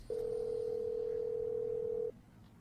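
A steady telephone line tone holds at one pitch for about two seconds and then cuts off abruptly, just before an answering machine message, leaving a quiet background.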